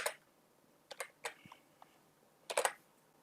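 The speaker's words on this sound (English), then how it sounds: "now you just want to type in the confirmation number that was displayed on your Wii earlier" Keys tapped on a computer keyboard while entering a confirmation number, in short clustered bursts separated by pauses, close and fairly quiet, with no talking.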